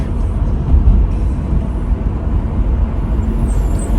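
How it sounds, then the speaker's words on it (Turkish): Busy morning road traffic heard from inside a moving car, a steady low rumble of engines and road noise throughout with no talking. "Trafikte sabah ama bayağı yoğun."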